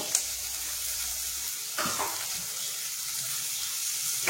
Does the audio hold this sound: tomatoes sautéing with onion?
yes